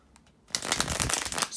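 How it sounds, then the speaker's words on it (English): Tarot cards are shuffled close up, a quiet start and then a dense burst of rapid riffling flutters lasting about a second. "bear with me a second, guys, to shuffle the tarot cards"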